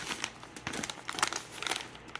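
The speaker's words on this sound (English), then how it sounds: "Beverage bag." Close crinkling and crackling of a plastic MRE beverage bag from a 2015 Canadian IMP ration, several quick bursts of rustle over about two seconds.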